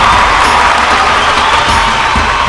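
A studio audience at a singing competition show applauds and cheers loudly to welcome challengers, a dense, continuous roar of claps and voices close to the microphone.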